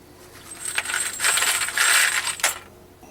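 Coins rattle and clink as one drops down through an American Accurate coin collator, a bright metallic jingle that swells and fades over a few seconds, close and alone.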